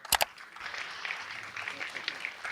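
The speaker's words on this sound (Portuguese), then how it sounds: "Muitas palmas para Jean Franco, por favor." Applause from an audience at a workplace health and safety talk, opening with a couple of sharp close claps before settling into steady, moderately loud clapping from the crowd.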